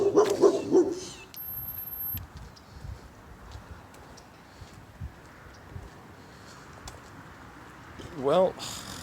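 A dog barks in a short burst at the start and again near the end, with quiet, intermittent sounds in the gap between.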